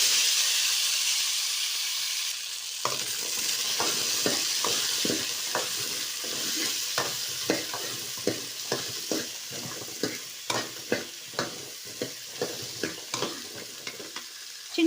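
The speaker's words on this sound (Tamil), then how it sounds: "சோம்பு பொரிஞ்சதும் நம்ம எடுத்து வச்சிருக்க க்ளீன் பண்ணி வச்சிருக்க சின்ன வெங்காயத்தை இதில் சேர்த்துக்கலாம்." Small shallots dropped into hot oil with fennel seeds in a pan, a steady loud sizzle broken by a run of regular scraping strokes of a spatula that grow more distinct toward the end.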